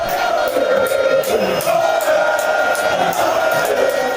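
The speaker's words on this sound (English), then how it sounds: "This video shows protest from the crowd." A loud crowd protests at an election collation hall in Techiman South, a dense mass of shouting voices with repeated surging cries, close and continuous throughout.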